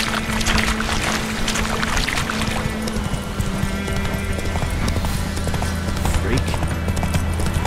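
The horse is galloping in The Witcher 3, its steady clip-clop hoofbeats running throughout alongside splashing and game ambience, with a voice present.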